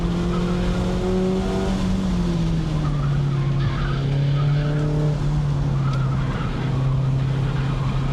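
A 2014 Mazda Miata lapping a race track, its engine droning steadily and loud throughout with tires squealing through corners, the pitch sliding slightly as it shifts.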